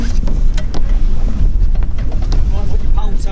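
A cruiser class sailing boat racing on the Medway runs its engine in a low steady rumble, heard under heavy wind buffeting on the microphone and people talking nearby.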